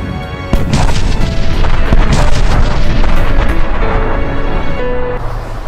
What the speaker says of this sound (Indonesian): ledakan nuklir yang terlihat bukan hanya satu saja, melainkan ada beberapa